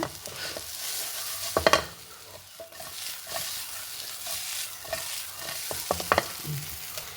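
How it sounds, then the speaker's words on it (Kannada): A spoon stirs brinjal palya coated in masala in a hot pan, giving repeated scraping and clinking strokes over a soft steady sizzle, close and without any talk. "ಒಂಚೂರು ಸರಿ ಮಿಕ್ಸ್ ಮಾಡ್ಕೊಂಬ"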